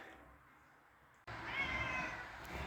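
A hungry cat calls out for breakfast at a farmyard feeding time, its meows loud and close after a quiet start, with no talk over them.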